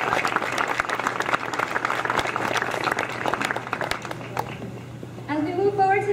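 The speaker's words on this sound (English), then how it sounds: "Thank you so much, and another round of applause." A banquet audience claps in a sustained round of applause that fades out, after which a speaker begins talking into a microphone over a low hum.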